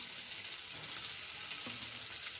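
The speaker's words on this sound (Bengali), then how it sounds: "এখন মাছগুলো ভাজা হয়ে গেছে" Katla fish frying in oil in a pan, a steady close sizzle with faint crackles and a soft clink of turning partway through, no speech.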